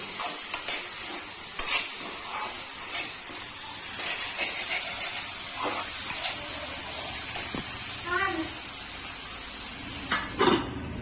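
Steady frying sizzle of tomatoes in a pan over low heat, with occasional stirring scrapes and light clinks, continuous and close, no voices.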